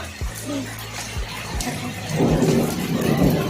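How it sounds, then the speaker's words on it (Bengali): Heavy rain pours steadily in a light wind, the hiss thickening and growing louder partway through, with a few dull low thumps underneath. "হাওয়াটা হালকাই বইছে যে ঝোড়ো হাওয়া যেরকম হয় সেরকম হাওয়া বইছে না কিন্তু বৃষ্টি হচ্ছে"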